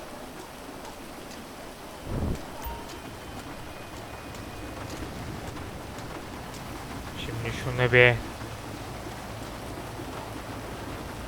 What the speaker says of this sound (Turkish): Ne kadar güzel bir gündür ama bence yağmur yağıyor.